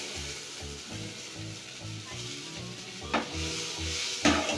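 Vegetables fry in a pan for a Bengali home-style dish while being stirred, a steady sizzle under a regular scraping rhythm of the spoon, with a couple of sharper clatters near the end.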